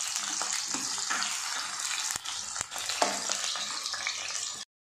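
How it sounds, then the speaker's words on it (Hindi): Continuous close sizzling of onions frying in hot oil over medium heat, with a few soft stirring knocks, and then it cuts off abruptly. "अब इसके अंदर हम प्याज ऐड करेंगे। 2 मिनट तक हम मिडल आंच पे भूनेंगे।"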